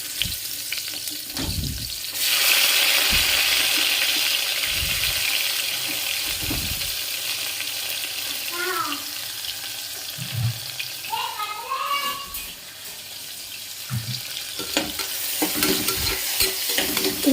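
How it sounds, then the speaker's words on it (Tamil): Onions and tomatoes sauté in a pan with a soft, continuous sizzle, broken by intermittent scraping stirs and a few small clatters, close and fairly quiet. "இது கொஞ்ச நேரம் வதங்கட்டும்."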